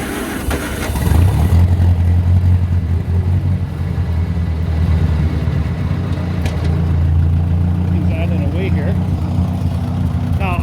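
A 1963 Oliver 550 tractor engine cranks and catches, then settles into a loud, steady low diesel-style rumble that runs throughout, with faint higher rattles and a brief buzz near the end.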